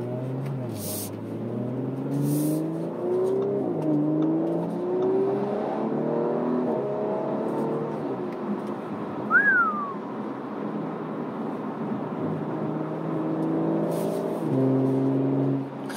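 A 2019 Audi RS5 Sportback engine drones steadily throughout, rising and falling in pitch as it revs through gears, close and fairly loud.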